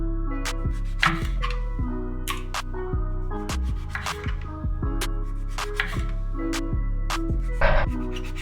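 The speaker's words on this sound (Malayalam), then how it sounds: "അപ്പം ഇതിനൊന്ന് നമുക്കൊന്ന് വട്ടത്തിൽ അരിഞ്ഞെടുക്കാം." Knife slicing brinjal (eggplant) into rounds on a board, a series of crisp, close chopping knocks at an uneven rhythm, loud and alone.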